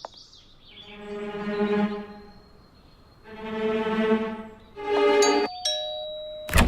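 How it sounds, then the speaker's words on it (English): A cartoon doorbell in a Barbie Dreamhouse animated episode rings three times, each a sustained chiming tone, followed by sharp higher pings and a short bright hit at the end. "I'll ring the bell and distract them."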